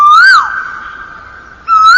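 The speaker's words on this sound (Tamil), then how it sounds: "இது குயில். இதனோட சத்தம் தான் இப்படி இருக்கும்." A cuckoo's call in two sweet whistled phrases, loud and clear at the start and again at the end, joined by a softer sustained tone in between.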